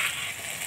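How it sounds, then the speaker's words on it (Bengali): A ground spice paste of coriander, cumin, ginger, garlic and chili sizzles in a pan with fried onion and tomato. The sizzle is short, close and steady, with a faint stir near the end. "পেঁয়াজ টমেটোটা ভালো করে ভাজা ভাজা করে নিলাম"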